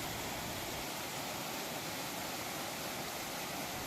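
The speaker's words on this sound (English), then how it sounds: "The Kanehti waterfall trip is exceptional because it offers a unique opportunity to explore two waterfalls in one journey." Steady broadband rushing of the Kanehti waterfall in the Soon Valley, Khushab, flowing continuously at moderate level with no voices.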